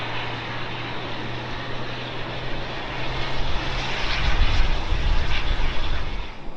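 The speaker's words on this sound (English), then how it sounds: "China Southern Airlines, the amazing Airbus A350." An Airbus A350 airliner of China Southern Airlines passing at London Heathrow gives a steady, broad jet roar with a low hum that swells as it draws nearer.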